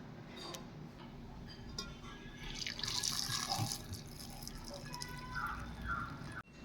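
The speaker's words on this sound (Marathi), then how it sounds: "त्याच्यामध्ये मी आता गरम पाणी टाकणार आहे" Hot water is poured over fresh Konkan cashews in a quiet kitchen, making a faint, soft pouring wash in the middle of the clip, with light drips and a couple of small clicks around it.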